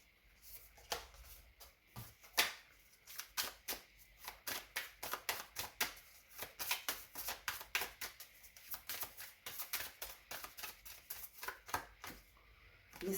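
Tarot cards are shuffled and handled up close in a long run of rapid, crisp riffles and flicks that come in dense bursts with short pauses between them.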